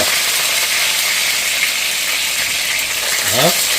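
Chicken thigh skin fries in a pan with a loud, steady sizzle, close and continuous, with a brief scraping sound near the end.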